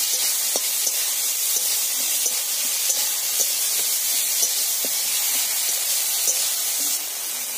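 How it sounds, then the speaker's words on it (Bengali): Garlic, ginger and onion paste frying in oil for a bottle gourd fish curry, a loud continuous hissing sizzle with faint intermittent ticks, steady throughout. "তো এগুলো দিয়ে ভালো করে নেড়ে করে বেশ সুন্দর করে আমি কষিয়ে নেব।"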